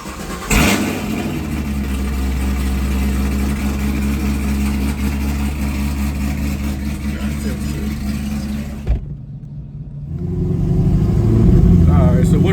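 Chevrolet Camaro ZL1 engine cranks and catches at the start, settling into a loud steady idle, then cuts out briefly before firing again and rumbling back up.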